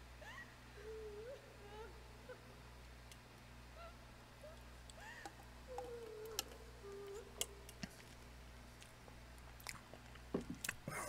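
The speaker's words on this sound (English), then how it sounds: "I finished chewing on this ice cube." Ice cube being chewed during a Layers Of Fear game stream: scattered faint crunches and clicks that grow sharper toward the end, over a steady low hum and faint game sounds.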